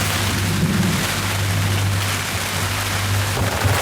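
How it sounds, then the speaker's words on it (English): Rain and wind sweep across open water during a powerboat trip to Jekyll Island, Georgia, a dense, steady hiss with a constant low hum underneath and no voices. "I don't know if you can see the rain and the wind blowing off the water here."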